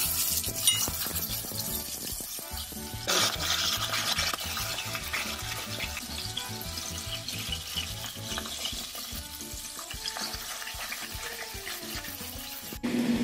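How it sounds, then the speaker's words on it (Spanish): Meat fries in oil in a preheated pan over low heat, a continuous crackling sizzle lasting throughout with stirring scrapes and a brief louder surge partway, no voices. "le voy a rociar el aceite para proceder a freír la carne"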